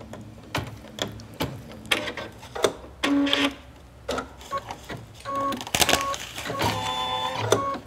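A sewing machine stitching out a cutwork embroidery design, with fast rattling mechanical stitching in bursts, then clicks and thumps as it finishes, close and moderately quiet.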